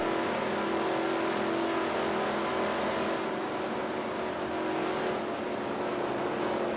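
Race cars at the 1961 World 600 stock car race, a continuous droning engine roar with steady high-pitched whine, constant and loud with no pauses or talking.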